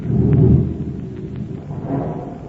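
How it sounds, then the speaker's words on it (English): Deep thunder rumbles through the night sky, one broad swelling roll that peaks early and then trails off into a low, distant murmur, with no voices over it. "You hear that thunder?"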